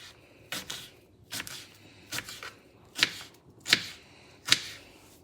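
Knife cutting peeled mango into medium pieces for mango pachadi, seven crisp chops on a board at a slow, even rhythm, close and distinct against a quiet kitchen.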